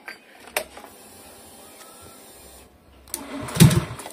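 A Honda Beat/Scoopy scooter with a bored-up engine is being started: quiet mechanical whirring and faint clicks for a few seconds, then a louder burst of cranking and engine noise near the end.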